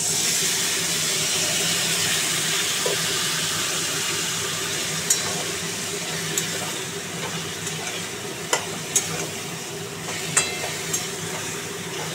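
Potato and pointed gourd sautéing in a pan with added water, a steady loud hissing sizzle with occasional sharp clinks of a stirring spoon against the pan, close and unbroken, no talk.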